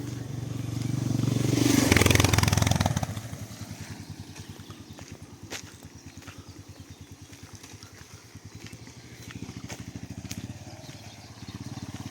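A motorcycle engine roars close by and fades as it passes near a river in Truskavets, Ukraine, then a low idling engine rumble continues in the background.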